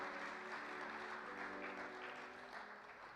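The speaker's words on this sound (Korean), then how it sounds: "다시 한번 감사의 박수를 드리도록 하겠습니다." A church gathering gives a faint, steady round of thankful applause at a farewell ceremony for a church leader and his wife, the clapping soft and distant with a low hum beneath it.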